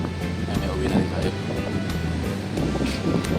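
Sea waves rolling in at a beach as the water rises, a continuous close wash of surf mixed with wind buffeting the microphone, steady throughout.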